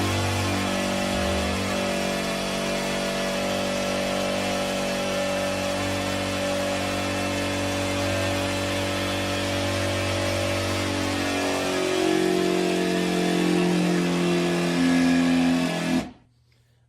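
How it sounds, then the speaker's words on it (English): Electric air pump inflating an 11.6-foot by 35-inch inflatable stand-up paddle board, a loud steady motor drone that holds for about sixteen seconds, rises slightly in pitch toward the end, then cuts off abruptly. "the pump did shut off at 5 minutes or 5 PSI"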